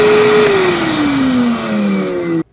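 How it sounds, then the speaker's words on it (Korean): A Bosch GAS 10 PS combination vacuum cleaner, dust extractor and blower runs with a steady loud motor whine that slowly drops in pitch, then cuts off abruptly near the end, close up with no talking. "오른쪽으로 돌리게 되면 청소기를 작동하는 모드입니다."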